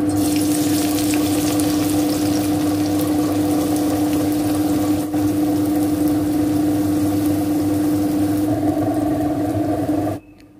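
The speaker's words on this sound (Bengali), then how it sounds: "এই যে পেঁয়াজটা ভাজছি, এটা বেরেস্তা বানাবো" Onions fry in hot oil for birista, giving a steady, loud sizzle that runs continuously alongside a constant mechanical hum before cutting off abruptly near the end.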